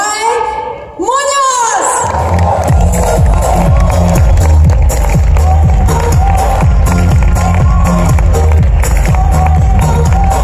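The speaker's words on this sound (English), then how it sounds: "So please welcome, with a big applause, my upline, Sarai" Loud, sustained applause and cheering from a crowd welcoming speaker Sarai Munoz at a business development event. It swells right after a voice calls out her name and carries on steadily to the end.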